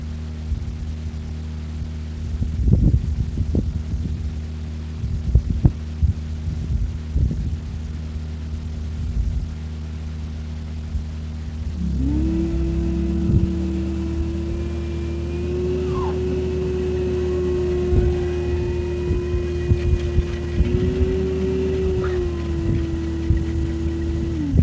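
A vacuum pulling mule tape line into a conduit raceway switches on about halfway through. It brings a steady droning whine over a constant low hum, with scattered handling knocks before it starts and no talking.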